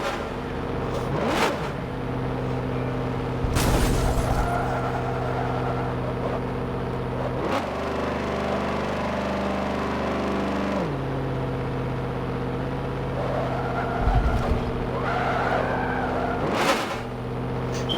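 Stock car engine from a racing video game, a steady droning note held through the whole stretch, with pitch swoops and revving surges as the car works through a bend and brief skidding noises.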